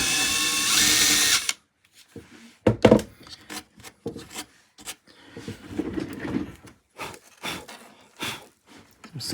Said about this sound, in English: Got like a 4-5mm drill bit, so we'll just drop it in there and make a bit of noise.